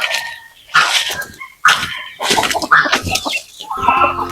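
Native chickens on a farm range cluck and squawk in loud, overlapping bursts as the hungry flock crowds together waiting to be fed, with no talking.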